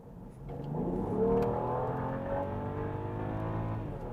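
A BMW 5 Series GT (F07) with the same engine as the 740i, suffering a power-loss fault, accelerating at full throttle: a continuous rising engine drone with a climbing whine, steady and fairly loud, heard from inside, no talking.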